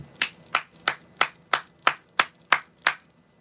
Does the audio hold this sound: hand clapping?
yes